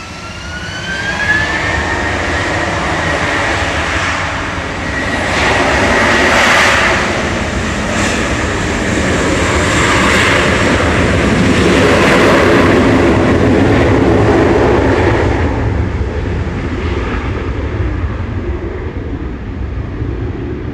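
Turkish Airlines Airbus A321 jet, eight years old, departing Manchester Airport for Istanbul, a long, loud building engine roar with a rising whine that peaks mid-run and slowly fades as it climbs away.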